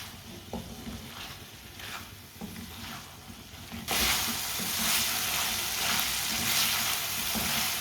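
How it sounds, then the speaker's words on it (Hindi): Capsicum and cabbage cook in a pan with a steady sizzle and occasional stirring scrapes, growing noticeably louder and brighter about halfway through, with no voices. "जो हमने शिमला मिर्च और पत्ता गोभी डाली है वो भी साथ में थोड़ी सी पक जाएं"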